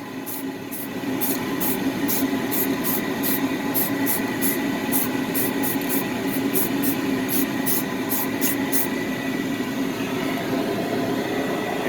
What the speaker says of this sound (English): take some clear coat and just spray straight at it